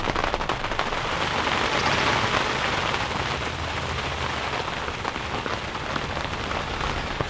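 Heavy rain pours down beside a cornfield in Iowa, a dense, steady hiss and patter of drops hitting surfaces, loud and close throughout.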